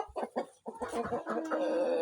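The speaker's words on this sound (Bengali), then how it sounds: "বাহামার মোরগ।" A large Bahama breed rooster on a poultry farm in Ullapara, Sirajganj, gives a few short, close clucks, then a longer, steadier call that runs to the end.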